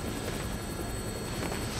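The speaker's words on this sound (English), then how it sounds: "Looks like taking a helicopter was the way to go." Helicopter flying in the video game Dead Rising Deluxe Remaster: a steady, dense rotor and engine drone that holds at an even level throughout, with no speech.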